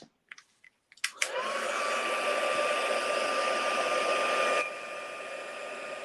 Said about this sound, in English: then we're going to heat emboss that with our heat tool